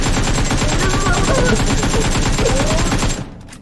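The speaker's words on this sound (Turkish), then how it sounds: "Adam havada 500 kişi vurdu." Rapid video game gunfire rattles on continuously, loud and dense, until it cuts off near the end, with a voice faintly mixed in.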